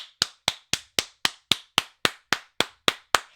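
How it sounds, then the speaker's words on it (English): About a dozen sharp, evenly spaced claps at a slow, steady beat, each a crisp smack with a short decay, close and clear with nothing else around them. "They applaud him again."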